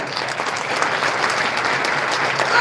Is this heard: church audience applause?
yes